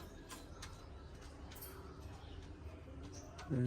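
Pigeons settled in a coop coo softly against a steady low background hum, with a few faint chirps scattered through and a louder thump-like burst at the very end.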